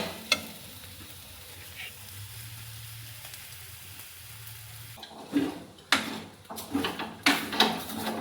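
Sabudana roasting in a pan, first a quiet low sizzle, then a run of spoon scrapes and knocks against the pan in uneven bursts, close and moderately loud, with no speech.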